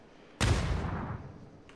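A grenade explodes in the PUBG battle royale game near a building, a single sudden loud blast that rolls into a long, slowly fading rumble with a faint second crack near the end.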